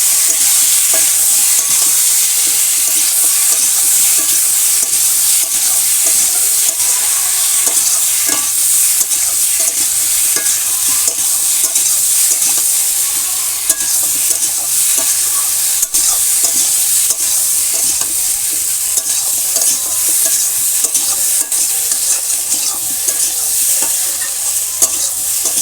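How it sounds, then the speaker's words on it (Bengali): Spice paste of cumin, ginger and ground chili stir-fried in a village kitchen, a steady loud sizzle with repeated scraping stirs throughout, no talking. "এখানে জিরে আদা দিয়ে দিয়েছি, লঙ্কা বাটা। এখন দিয়ে ভালো করে কষাবো,"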